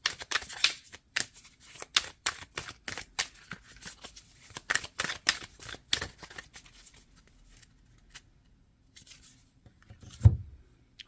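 Tarot deck shuffled and a last card drawn during a reading, a burst of quick papery riffles and flicks up close that thins into sparse soft rustles, ending on a low thump of the deck being set down.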